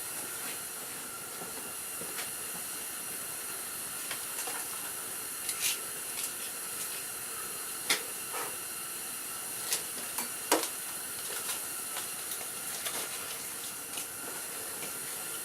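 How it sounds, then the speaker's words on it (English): A high-speed blower feeding a charcoal forge runs as a constant airy whoosh and whine, steady and fairly close, with a few faint clicks and taps scattered over the drone and no speech. "Now let me show you my high-speed blower."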